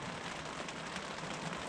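Steady light rain pattering on a tent overnight, with a soft broadband hiss and faint wind, close and continuous with no voices.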